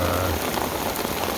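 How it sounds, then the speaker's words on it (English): Rain falls steadily on a hot afternoon during a thunderstorm, a dense, even patter of drops on surfaces all around, close and continuous with no voices. "now it's raining."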